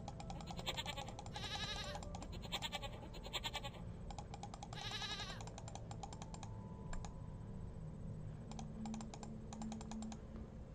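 A goat in the puzzle game Rusty Lake Paradise gives a few short wavering bleats, mixed with bursts of mouse clicks and keyboard-like tapping at quiet, close range.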